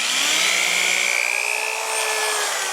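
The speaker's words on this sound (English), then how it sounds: "so I'm going to drill a few holes" A power drill bores holes into a bowling ball, a steady high-pitched whine holding for the whole stretch with a slight dip near the end, loud and close with no talk.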